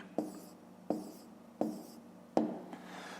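Pen or pencil writing numbers by hand on paper for a fifth-grade maths fraction exercise: four short scratchy bursts of strokes, each starting with a sharp tap and fading, close and fairly quiet with no talking.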